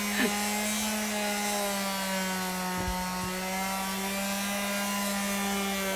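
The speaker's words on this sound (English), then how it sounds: "Okay, that's the sander." A power sander drones steadily with a constant high hum and gritty rubbing texture, loud and close, running without pause.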